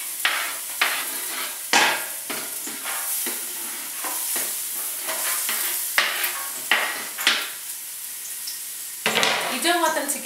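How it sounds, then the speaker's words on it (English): Garlic, onion and celery sautéing in olive oil, a steady sizzle broken by frequent scraping stirs of a utensil against the pan, loud and close. "We just want to saute the garlic and the onion and the celery just until they start turning translucent."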